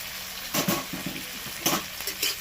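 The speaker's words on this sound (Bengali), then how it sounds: "লাইভ আদা ভাজা হচ্ছে পুরো" Grated ginger fries in oil in a pan, its sizzle rising in several short bursts as it is stirred, with light scraping and clatter of a utensil against the pan, and no voices.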